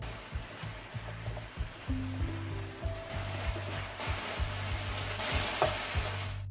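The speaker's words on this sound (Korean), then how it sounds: "핏기가 거의 사라지면 마늘을 함께 구워주세요." Pork belly and garlic fry in a pan for green-onion pork duruchigi, a steady close sizzle broken by repeated scraping and clattering stirs, with no talk.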